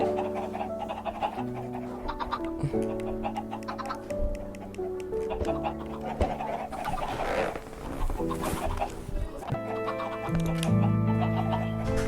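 Chickens cluck and squawk in the video game Minecraft, with repeated short game-sound clucks and blips layered over looping in-game background music, at moderate loudness and without talk.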